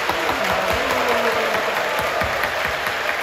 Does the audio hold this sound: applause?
yes